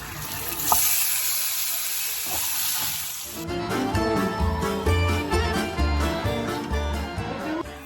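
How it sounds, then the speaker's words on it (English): Vegetables frying in leftover steak butter in a pan, a loud close sizzle that starts as bright hiss and then settles into a denser crackle, continuous with no voices. "While the steak rests, I'm gonna cook my veg in the same butter."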